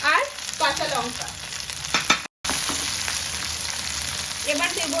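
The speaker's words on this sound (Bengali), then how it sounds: "আমার পেঁয়াজটা ভাজা হয়ে গেছে, এবার আমি দিয়ে দেবো এর মধ্যে টমেটো কুচি আর কাঁচা লঙ্কা" Fried onion with chopped tomato and green chili sizzling in a pan, a steady close frying hiss with a brief dropout midway and faint voice-like tones in the background.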